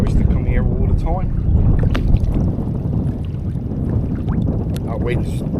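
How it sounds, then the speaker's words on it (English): Gusty wind buffets the microphone on a boat on the River Tamar near the Tamar Bridge, a steady broadband roar that holds loud through the whole stretch, with brief faint tonal calls poking through. "That wind's picked up. I reckon that wind is hitting 15 mile an hour at times now."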